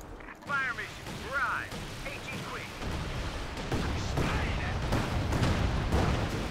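Artillery barrages in the Company of Heroes 2 video game, with several booming impacts and whistling shells overlapping, mixed with battle noise and a voice talking over the fire.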